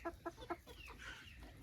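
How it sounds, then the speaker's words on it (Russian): A hen or rooster on a farm gives three quick, evenly spaced clucks close by, followed by a softer drawn-out call. "Петушкам, цыплятам, курочкам"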